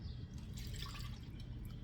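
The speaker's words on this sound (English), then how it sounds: "Pour it into your flour mixture." Lemon juice and water poured into a flour mixture for homemade mayonnaise, a soft trickling and dripping of liquid heard close and fairly quiet, with no talking.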